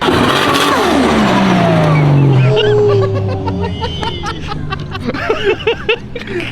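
Nissan R34 Skyline engine on a dyno, revving hard at full throttle, its loud roar rising in a steep sweep, then holding a high-pitched wail; excited voices and cheering break in toward the end.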